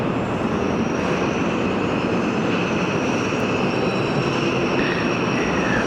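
Machinery in an ERW steel pipe factory, including the uncoiler and the coil feeding equipment, runs with a loud, steady industrial roar and a constant high whine throughout.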